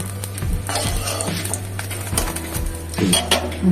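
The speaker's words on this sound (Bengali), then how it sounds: "বাকিগুলো সব ভেজে নেব" Lentil and vegetable tikkis fry in a pan at close range, with a steady background sizzle under repeated metallic scraping and clinking of a utensil against the pan, and no voices.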